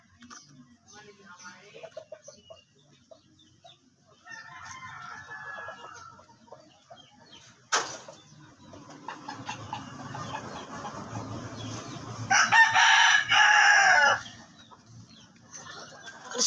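A farm rooster crows loudly near the end, a bright sustained call, after stretches of clucking and soft fowl noises, with people talking nearby throughout.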